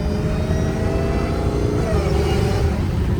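An 800 hp Dodge Challenger Hellcat Redeye engine heard as a loud, steady droning roar with a slowly shifting tone, continuous and close, with no voices.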